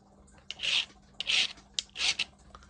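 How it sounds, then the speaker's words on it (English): A metal file rasps across hardened steel in three separate strokes, each a loud, gritty scrape lasting about half a second, separated by short pauses and a few small knocks. "That is hardened steel. The file didn't even touch it."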